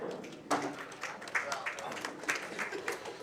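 Appreciative applause from an audience at a pool match in a cue-sports final, a burst of clapping that rises sharply then carries on in uneven waves with scattered louder claps.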